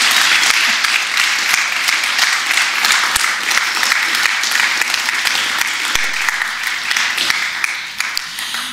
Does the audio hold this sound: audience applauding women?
yes